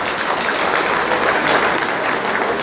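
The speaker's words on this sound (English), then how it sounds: "Please give her a round of applause." Audience at a Jamaica 60 Diamond Jubilee gala bursts into sustained applause, a loud dense wash of many hands clapping steadily throughout, close and continuous, with no talking over it.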